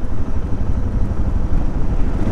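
A Suzuki DR650 single-cylinder thumper on knobby tires ridden at speed on pavement, with a steady rough engine drone mixed with wind rumble, heard up close and without talk.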